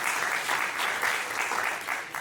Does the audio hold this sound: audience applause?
yes